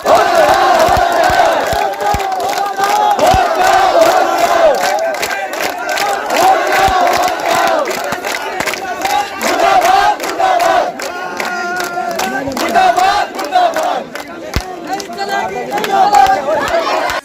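A protest rally crowd over alleged rigging of the UKSSSC exam chants slogans in loud unison, massed voices rising and falling without a break, close and dense, with shouts and babble mixed into the din.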